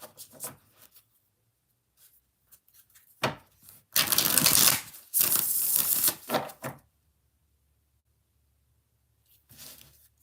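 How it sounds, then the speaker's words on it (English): Brand-new tarot cards riffle and shuffle in close, rustling bursts, loudest in the middle, with quieter taps and slides before and after. "They're brand new and they're shuffling like butter."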